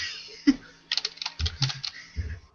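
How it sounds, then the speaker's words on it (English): Keys tapped on a computer keyboard in a short, irregular burst of clicks, heard close but fairly quietly, with a few louder strikes spaced across a couple of seconds. "I just heard Tash typing"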